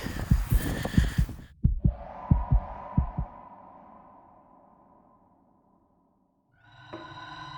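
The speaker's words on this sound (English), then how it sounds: "So odd to be able to hear your own heartbeat when you're walking." A person's own heartbeat heard while walking: several dull, low thumps in a quick irregular run fade into a soft hum, then silence before a faint tone returns.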